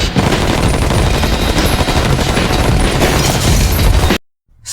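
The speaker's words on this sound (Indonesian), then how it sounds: "Mereka dihabisi anak buah Tama dengan tembakan yang brutal." Dense, relentless automatic gunfire in an action film roars loudly for about four seconds, rapid bursts blending into a continuous barrage before cutting abruptly to silence.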